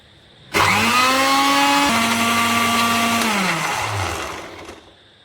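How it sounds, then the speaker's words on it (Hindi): Kitchen blender grinding raw mango with a little water for green chutney, a loud steady whirring motor starting abruptly, dropping pitch slightly as it loads, then winding down and stopping. "पहले केरी को ग्राइंड कर लेंगे।"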